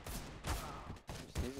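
Bursts of rifle fire from a Counter-Strike: Global Offensive match, several rapid volleys in quick succession with short gaps, moderately loud and close.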